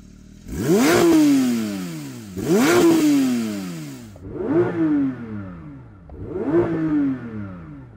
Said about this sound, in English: The old Porsche GT trick of putting it in drive, pulling up both paddles, and then it lets you rev it out while the car's stationary